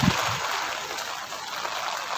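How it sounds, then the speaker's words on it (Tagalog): Steady broadband hiss of heavy typhoon rain pouring down in Taiwan, continuous and fairly loud throughout, with no voices. "Lumalakas na itong ulan na."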